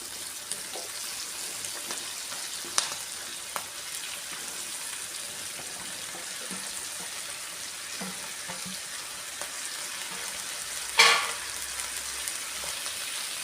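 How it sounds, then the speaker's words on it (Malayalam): Ivy gourd frying in a pan with onion, green chili and turmeric gives a soft, steady sizzle with a few light clicks of stirring and one sharper clatter near the end, close but fairly quiet. "കോവയ്ക്കയും കൂടെ ചേർത്ത് കൊടുക്കും."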